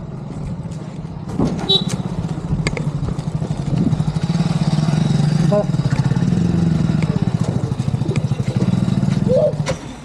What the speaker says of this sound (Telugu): బైక్ వస్తుంది రే, సైడ్ రా